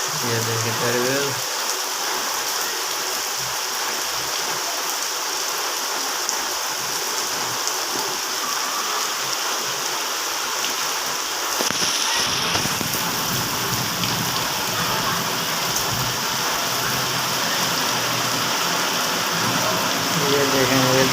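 Heavy rain pours steadily in a village, a dense continuous hiss of drops hitting surfaces close by, with brief faint voices near the start and a louder stretch of downpour after the midpoint.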